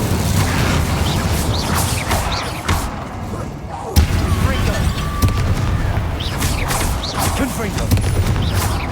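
Explosive combat spells in the wizarding game Hogwarts Legacy, booming blasts and bursts layered over continuous battle din, loud and close, with a voice calling out over the action.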